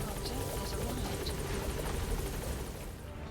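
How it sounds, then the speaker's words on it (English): A support helicopter arrives in the stealth video game Metal Gear Solid V: The Phantom Pain, its rotor throbbing steadily and loudly under a low in-game radio voice throughout. "Support helicopter has arrived."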